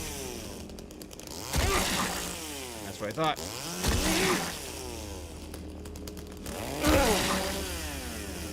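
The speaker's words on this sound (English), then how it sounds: "Sometimes you just gotta chainsaw something 6 or 7 times to feel better about your life" A chainsaw in Silent Hill 2 Remake roars in three loud revving bursts, rising and falling in pitch with grinding strokes, while someone speaks a short line between them.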